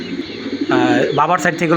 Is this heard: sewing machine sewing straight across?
no